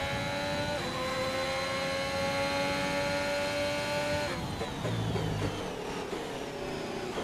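Formula 1 car engine in the F1 2021 racing game at Bahrain, a steady high whining drone with shifting tonal pitch that drops after a gear change midway, continuous and loud with no talking.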